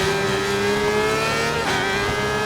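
Sportbike engines in the RIDE 4 racing game, including a 2009 Suzuki GSX-R600, hold a loud, continuous high-pitched howl with a slight rise and dip in pitch, alone without talk.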